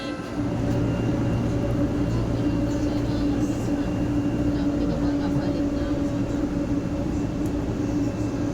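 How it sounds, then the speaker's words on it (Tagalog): A steady low rumble and hum from inside a moving MRT metro train, constant throughout, with faint voices murmuring beneath. "Masarado na po ang pinto at tugulan. Dito na tayo sa loob ng MRT."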